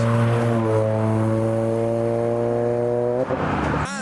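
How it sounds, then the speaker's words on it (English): A Mazda RX-8 rotary engine, painted with orange accents, holds a loud, steady high-pitched drone at a Japanese car show, then the revs fall away and flare again in short bursts. "And an RX-8 making noises with orange on it"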